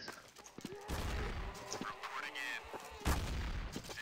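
M3 shotgun blasts in Counter-Strike: Source zombie mode, several sharp loud shots with booming tails spread across the moment, mixed with other gunfire and game noise, one strong blast near the end.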